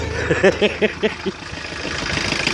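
A 1985 Ford Escort with a Mazda RF diesel engine, just started after sitting three years, gives a run of about six rough rhythmic knocks and pulses, then settles into a quieter, steady low rumble.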